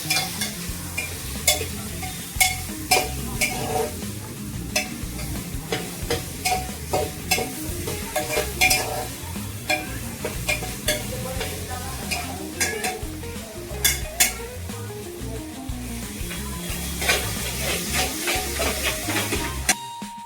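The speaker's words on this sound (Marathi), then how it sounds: "टोमॅटो त्याला थोडस परतून घ्यायचंय" Tomatoes sauté in an oily pan for paneer chilli, with a steady close sizzle under repeated sharp scrapes and clinks of a spoon stirring against the metal, and no talking.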